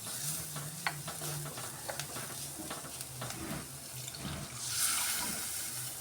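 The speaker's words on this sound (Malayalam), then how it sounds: "എന്നിട്ട് നമുക്ക് തേങ്ങാപ്പാൽ ഒഴിക്കാം." Coconut milk pouring into a pan of fish curry, a steady wet rush with a faint sizzle and light stirring clinks, close and continuous, swelling toward the end.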